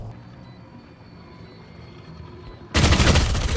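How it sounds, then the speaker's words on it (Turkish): Rapid automatic gunfire from a video game weapon with unlimited ammo bursts in loudly after a quieter stretch of low ambient game noise, a dense continuous rattle that fills the last second. "Yok abi bana böyle sınırsız mermi, aşırı hızlı tarayan silahlar vermemeniz gerekiyor."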